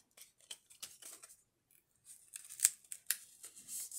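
Cardstock is folded along its score line in close, quiet handling, with a series of soft crisp scrapes and creases, a brief pause, then sharper rubbing and pressing sounds.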